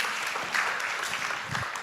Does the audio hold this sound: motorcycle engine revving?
no